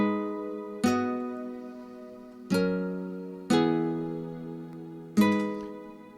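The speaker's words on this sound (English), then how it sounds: "Tucked under the nylon guitars, together, they sound like this." Plucked nylon-string guitar chords with a soft synth pad sustained beneath, four strummed hits spaced about a second or two apart, each ringing out and decaying, with no voices.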